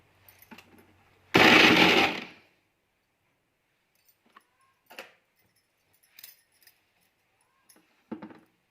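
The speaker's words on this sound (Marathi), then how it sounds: "आता आपण ह्या मिक्सरच्या भांड्याला फिरवून घेणार आहोत।" A mixer grinder jar whirs in one short loud burst of about a second while chopping deseeded lemon pieces for pickle, followed by quiet scattered clicks and knocks of the jar.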